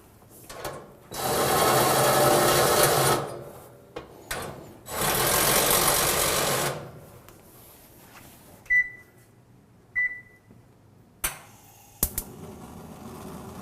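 Two screws holding the heat shield of an Ariston electric oven are driven out, heard as two loud, close bursts of whirring tool noise a few seconds each, followed by short clicks, a couple of faint beeps and sharp knocks.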